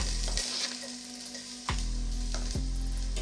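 Chopped garlic and ginger sizzle and fry steadily in a hot pan for spaghetti, a loud continuous crackle with sharp bursts where more ingredients hit the oil or get stirred, no talking.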